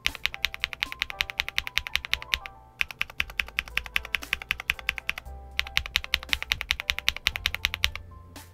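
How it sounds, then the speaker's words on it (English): Typing on a Portico 68 keyboard fitted with Eminence linear switches and Nautilus keycaps, close and clear, with rapid, even keystroke clacks in bursts and brief pauses between runs. "Today I will be sound testing the Eminence switch on a black label Portico 68 from the key company, and I'll be using Nautilus keycaps"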